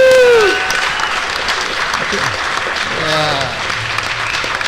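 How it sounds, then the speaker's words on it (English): Audience applause for keynote speakers at a conference keynote day, a loud sustained wash of clapping with cheers and whoops, a single spoken word near the start and a brief shout over the clapping. "Let's have a big round of applause for our keynote speakers"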